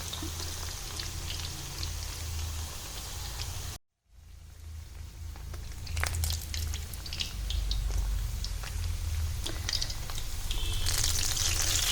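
Gujiya, a filled Holi pastry, fries in hot ghee with a steady, close sizzling hiss. The hiss cuts out abruptly for a moment, then resumes a little louder with scattered crackles.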